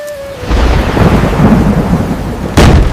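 Loud rumbling thunder rolls over steady heavy rain, with a second sharp crack of thunder near the end.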